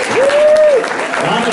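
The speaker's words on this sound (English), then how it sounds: "Please give me a round of applause for Gene Line," Clapping from an audience at a ladies' talk show in a hotel event room, a steady, moderately loud burst of applause over a short stretch with a brief sustained tone near its start.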